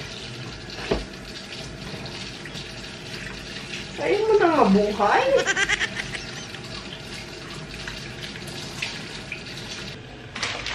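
Water runs from a kitchen tap in a short burst over a few seconds, moderately close, while a person speaks quietly in the background amid household noise.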